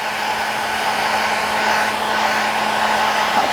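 Hair dryer blowing steadily and loudly while a Morkie dog is groomed, a constant even whoosh with a fixed hum and no talking.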